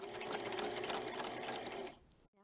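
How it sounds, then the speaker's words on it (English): A sewing machine runs steadily at an even, fast stitching pace while sewing baby dirndl fabric, close and loud, then stops abruptly near the end. "Now I'm going to go forward and trace where I just sewed."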